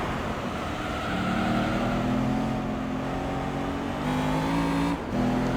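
A car engine holds fourth gear in the Gran Turismo Concept racing game at Tokyo R246. The drone is loud and steady, its pitch rising gradually, and briefly dips at each gear change.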